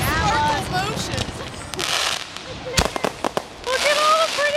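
Fireworks bursting outdoors, with several sharp cracking pops in a quick cluster midway and sparkling crackle around them, while excited voices talk and chatter over most of it.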